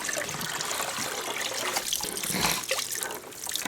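Water splashes and drips steadily as a groundhog hide soaked in salt-and-vinegar water is lifted out, with a fairly close, continuous trickling wash and no talking.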